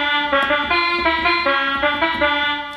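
Synth sample of the kind used in a well-known song, a bright tonal sequence of repeating notes, clear and upfront with no voices.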